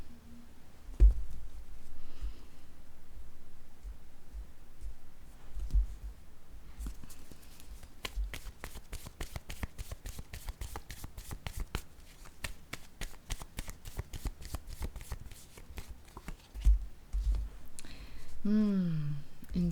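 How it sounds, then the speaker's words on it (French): A deck of cards is shuffled close by with a long, rapid riffle of crisp flicks, with quieter handling and card drawing before and after and a brief whistle-like tone near the end. "Je vais piger 2 cartes de mon jeu haut."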